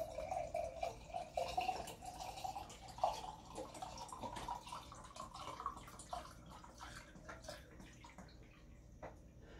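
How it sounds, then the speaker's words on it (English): Vodka is poured from a bottle into a glass jar, a faint, close trickling and gurgling stream that runs steadily for several seconds and then tapers into drips. "Fill it up with vodka."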